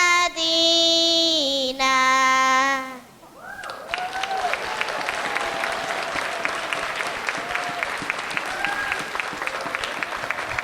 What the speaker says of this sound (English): Give them a big applause